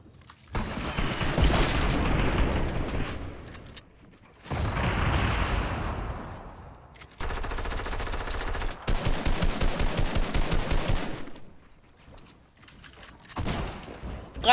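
Rapid bursts of gunfire from a blue pump shotgun and other weapons in a Fortnite battle, sharp and loud in clustered volleys with brief pauses between them.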